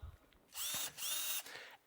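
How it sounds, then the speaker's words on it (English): A power drill runs at high speed as it bores holes through a bucket, two loud whining bursts with a short pause between them and a quieter tail, with no talking. "We're literally drilling holes in this bucket."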